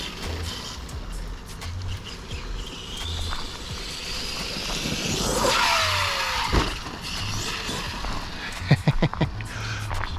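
An Arrma Outcast 8S RC car drives and accelerates outdoors, its electric motor whining up in a rising sweep mid-clip amid scuffing and clattering, with a few sharp knocks near the end.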